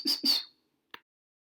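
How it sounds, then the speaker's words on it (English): A Eurasian kestrel gives two sharp, high-pitched calls in quick succession, followed by a fainter short note after a brief pause, with silence around them. "Eurasian kestrel."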